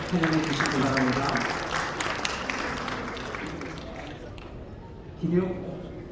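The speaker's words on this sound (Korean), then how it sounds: "계속 박수로 환영해 주시기 바랍니다." Congregation applauding at a church general assembly plaque presentation in Gwanghwamun, steady crowd clapping for several seconds with a voice speaking over it, then fading near the end as talk resumes.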